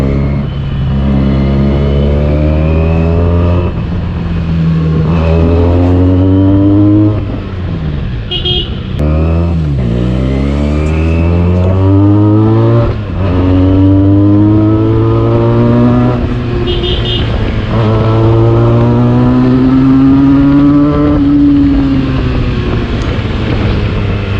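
Benelli TNT 300 motorcycle engine running loud and close, with a steady tone that rises and falls through several revs and shifts, accompanied by wind noise across the microphone.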